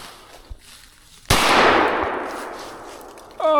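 A single sharp gunshot rings out during a squirrel hunt, loud and close, with a long rolling echo fading through the woods afterward.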